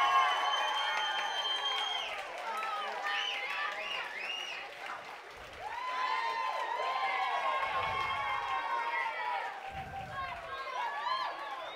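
A live talk show studio crowd cheers, whoops and applauds as a Buffalo Bills player is brought on, lively and sustained, with a host and guest talking over the noise.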